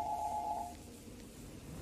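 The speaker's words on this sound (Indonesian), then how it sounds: "bunyi telepon di depanku memecah kesunyian." An electronic telephone ring sounds as a short steady tone in a radio drama, then cuts off and leaves a quiet low hum.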